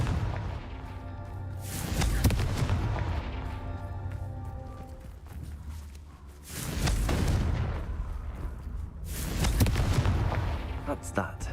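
Confringo fire spells explode in the Hogwarts Legacy video game, three separate booming blasts spaced a few seconds apart over a low musical background.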